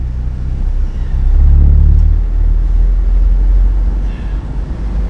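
A truck pulls out of a petrol truck stop in Jackson, Mississippi, its engine giving a loud, steady low rumble that swells briefly as it moves off.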